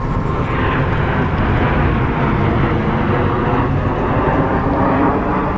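A fixed-wing airplane passes overhead outside a house during an electrical install, a loud, steady broadband engine roar that holds evenly throughout with no talking.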